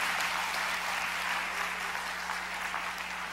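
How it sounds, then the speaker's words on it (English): Steady applause from an audience at a sermon on prayer and fasting, a dense even wash of clapping with no voice over it, holding at the same level throughout. "Clap, man."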